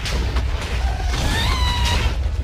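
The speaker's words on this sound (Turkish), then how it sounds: "Orada bir de TNT patladı." A muffled TNT explosion in a Minecraft game booms low under a busy mix of effects, with brief tonal chimes sounding partway through.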